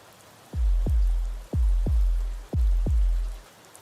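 Steady rain hiss fills the background, overlaid by heavy, deep double thuds that repeat in an even, slow rhythm like a heartbeat.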